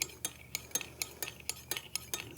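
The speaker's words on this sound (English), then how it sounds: "I'm just gonna give this a little bit of stir" Utensil scraping and clinking around a mixing bowl while stirring cake ingredients for a German chocolate cake, in regular strokes about every quarter second, close and fairly quiet, with no talk.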